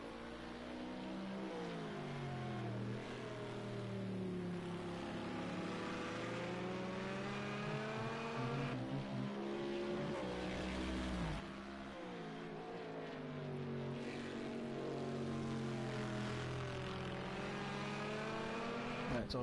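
GT3 race car engines at Brands Hatch in Project Cars 2 roar continuously, rising and falling in pitch through gear changes with a brief drop near the middle, loud and sustained, with light commentary underneath.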